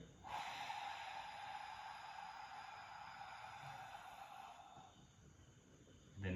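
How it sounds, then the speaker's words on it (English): One long, forceful exhalation pushing all the air from the lungs, a steady breathy hiss lasting several seconds before it tails off, faint and close. "Take a deep breath in. Exhale all the air."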